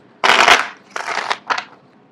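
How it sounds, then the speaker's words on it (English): Tarot cards being shuffled up close in three quick bursts, a loud papery riffle followed by two shorter, softer ones, with no talk over them. "I don't know why people like to see the card shuffle live"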